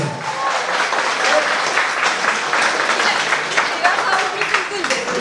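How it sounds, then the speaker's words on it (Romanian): Wedding guests applaud in a loud, steady burst of clapping that fills the room continuously, with crowd voices mixed into the dense applause. "mai tare, mai tare aplauze!"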